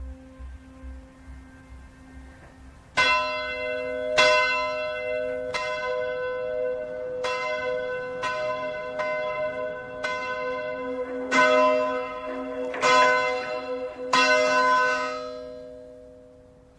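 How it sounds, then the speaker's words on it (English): A large church tower bell in London tolls slowly and resonantly, about ten strikes with long ringing decay, sounding alone after a quiet start. "Tower Captain Paul Norman still rings the bell today, just as his predecessors did 350 years ago."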